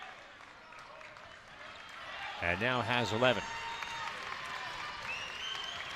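Basketball crowd at Patrick Gym applauding a free throw in a college game between UMBC and Vermont, a steady roar of clapping and cheering that swells briefly while a commentator talks over it.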